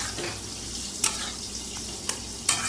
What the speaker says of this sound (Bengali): ঘিটা দিয়ে একটু নাড়িয়ে নেব